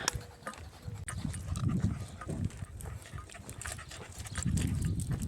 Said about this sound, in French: on traverse le village, re-attaque de chiens.